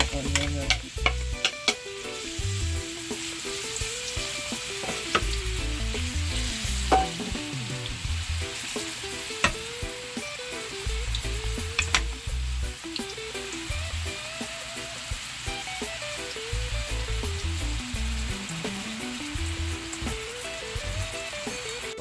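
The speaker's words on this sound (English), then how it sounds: "I'm gonna fry my onion." Onion fries in a pan with an even, continuous sizzle, stirred now and then with scraping and clinking of a utensil against the pan, close and steady across the whole stretch.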